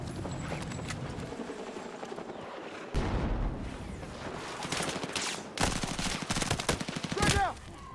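Rapid bursts of Vector submachine gun fire in Battlefield 6, loud and close, with dense automatic volleys around the three- and six-second marks over constant battlefield noise and scattered distant shots.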